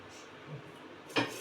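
A lid is set down on a pot of pointed gourd for steaming, giving one close, short knock near the end after a quiet stretch.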